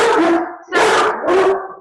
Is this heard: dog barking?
yes